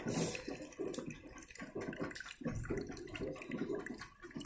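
Water trickles and splashes steadily through a homemade filter for dirty water, a close, continuous patter with small gurgles and no voices.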